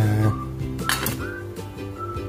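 A metal pot of cooked rice is opened with a brief clink and rattle of the lid partway through, heard over a low, humming background.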